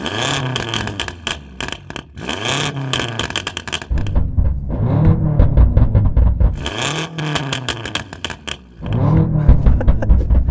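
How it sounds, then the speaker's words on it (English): Loud exhaust blasts from an 800hp BMW M5 with an aftermarket louder exhaust in repeated revs, each burst roaring up then crackling and popping as it falls, close and aggressive, with rumbling idle between. "this BMW is also fitted with a noisier exhaust, so have a listen to this"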